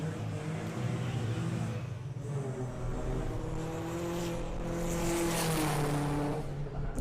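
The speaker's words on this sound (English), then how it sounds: "that's a better launch for Nick. I mean, the Mini's still out in front" Mini and a 700 horsepower Audi TT drag racing down the strip at Santa Pod Raceway during Ultimate Street Car 2023, engines roaring loud and steady with rising revs and a commentator talking over the noise.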